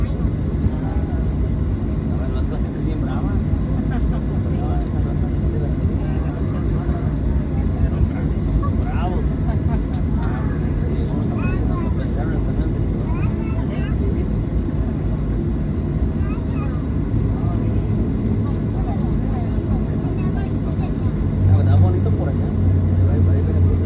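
Southwest Airlines jet taking off from Fort Lauderdale airport, heard from inside the cabin as a loud, steady engine roar and rumble that holds throughout, with a voice talking briefly.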